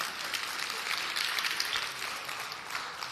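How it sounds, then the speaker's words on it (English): An audience at a medical technology conference applauds pitching startups, giving a steady wash of clapping for about three seconds at moderate, distant-sounding volume, with no voices over it. "Please let's have a big round of applause for all 10 pitching startups today."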